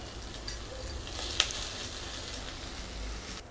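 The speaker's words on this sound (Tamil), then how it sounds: "தேங்காய் போட்டுட்டு நல்லா வதக்கணும்." Grated coconut sautés in a pan for mint chutney with a soft, even sizzle and one brief clink partway through, with no voices.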